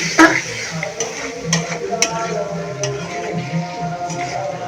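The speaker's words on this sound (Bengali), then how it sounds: "নেড়ে নিচ্ছি একটু নেড়ে মিশিয়ে নিচ্ছি" A spatula scrapes and knocks repeatedly against a pan while vegetable noodles with two eggs are stirred and mixed, with a faint sizzle underneath and a voice talking in the background.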